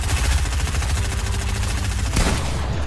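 Rapid automatic gunfire in a 2v2 online shooter match, dense continuous bursts loud and close, ending in a sharp final crack followed by a brief quieter tail.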